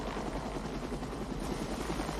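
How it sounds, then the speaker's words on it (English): A helicopter in an action film scene hovers outside an office window while its pilot fires the built-in machine gun, giving a steady, loud rotor roar that fills the moment with no talk. "the helicopter pilot appears outside the office window and opens fire with its built-in machine gun, killing Wilder's guards."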